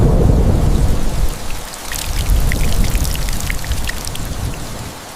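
AI-generated spring rain and thunderstorm, with steady loud rain pouring and pattering on surfaces and deep thunder rumbling low throughout.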